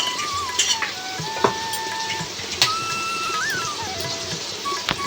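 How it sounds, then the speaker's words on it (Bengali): Potato and pumpkin pieces sizzle and fry in a pan with drumsticks being added, a steady soft hiss broken by light clinks of a utensil stirring against the pan. "এখানে আলু আর কুমড়োটা একটু ফ্রাই হয়ে গেছে এখন আমি দিয়ে দেবো হচ্ছে সজনে ডাটাগুলো"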